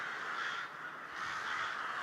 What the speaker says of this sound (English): you can hear the crows and stuff